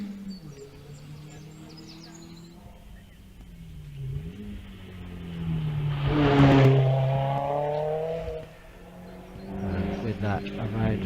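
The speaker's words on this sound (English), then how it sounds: "Simon Pollock from Wellington near Taunton departs the start line with the 2-litre turbo Toyota" A 2-litre turbo Toyota MR2 leaves the start line at the Wiscombe Park hillclimb, its engine revving up through rising gear sweeps and then easing off at moderate distance, with a voice talking over it.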